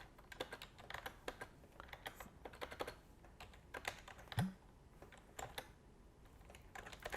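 Rapid keystrokes on a computer keyboard as commands are entered to activate a Python virtual environment, an uneven stream of close, crisp clicks with brief pauses and one louder thump midway.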